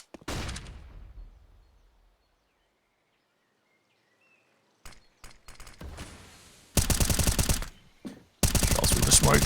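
Gunfire in Counter-Strike on the Inferno map, with a single sharp shot fading out, then a short stretch of silence, scattered shots, and finally two loud sustained bursts of rapid automatic fire close by.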